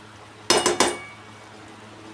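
A spoon scrapes and knocks against a pan while okra masala with grated coconut is stirred, giving three quick close metallic clatters, then a short quiet gap and one more clink.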